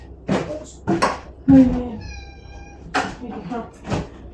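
A cat gives a single drawn-out meow between bursts of nearby conversation, with a few clatters in the room.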